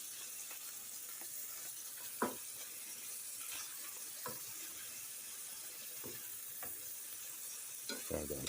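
Greasy hamburger meat frying in a pan is stirred, a steady low sizzle running throughout with a few sharp scraping clacks of the utensil against the pan, close and fairly quiet, no one talking.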